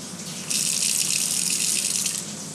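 Water gushes steadily from a household tap, loud and close, and runs on without pause after a short quiet start.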